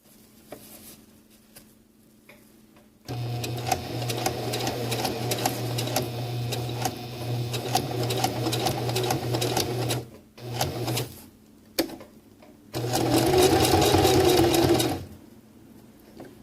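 Sewing machine stitching a 3/8-inch seam through mesh on a PALS/MOLLE webbing accessory pouch: a steady mechanical whir from about 3 to 10 seconds, a short burst near 11, then a louder final run near 13 to 15 seconds.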